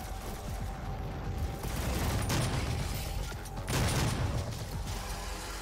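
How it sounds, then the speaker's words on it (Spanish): Double-barrel shotgun blasts from the video game Doom 2016 ring out in loud bursts amid dense, continuous combat noise and clanking mechanisms, with two heavy impacts standing out. "ahora puedo disparar dos veces con la escopeta esta"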